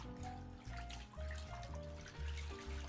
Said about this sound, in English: Step 1. Wash with water.